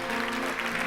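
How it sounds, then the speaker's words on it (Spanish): A church congregation gives a short, steady round of applause, dense and continuous at moderate loudness, with a faint undertone of voices or music beneath it. "Denle un gran aplauso al Señor."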